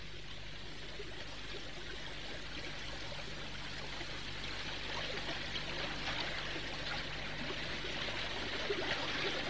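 River water flows steadily in a continuous, moderate rush of broadband noise, with a low steady hum beneath it and no voices.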